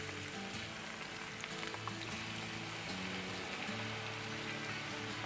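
Broccoli, onions and cabbage frying together in a pan for a spicy crispy mixed-vegetable starter, a dense, even hiss of sizzling like rain with occasional faint stirring clicks.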